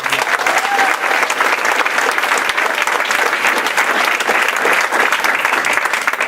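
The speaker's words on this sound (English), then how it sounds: "Let's give them a round of applause." A crowd at a 15 Now meeting claps loudly and continuously, dense applause holding at an even level for several seconds with no voices rising above it.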